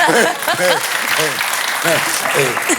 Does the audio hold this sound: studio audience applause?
yes